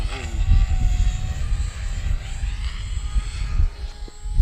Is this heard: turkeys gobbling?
no